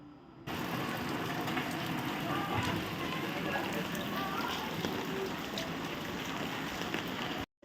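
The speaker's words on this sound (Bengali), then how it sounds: "বাইরে দেখুন প্রচুর জোরে বৃষ্টি হচ্ছে" Heavy rain pours outside at night, a dense, steady hiss and patter that fills the whole stretch evenly at close range before cutting off abruptly.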